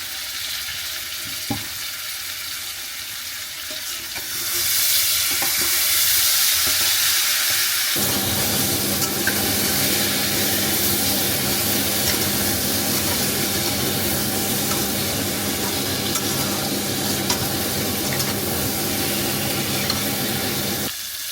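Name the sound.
eggplant and potatoes frying in a pan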